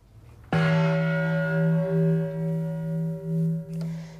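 The Peace Bell, cast in Japan from coins of many nations and hung in a Japanese garden at UN headquarters in New York, is struck once and rings loud and close, its deep tone humming and pulsing as it slowly decays.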